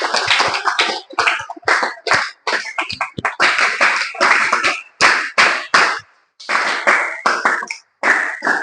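Loud hand clapping at a school welcome ceremony for new students. It comes in close, sharp bursts separated by brief pauses, with no talking over it.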